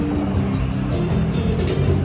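A Dodge Hellcat at a Super Sunday street parade, a deep, loud engine rumble held steady for a couple of seconds with a low throbbing idle and faint crowd noise behind.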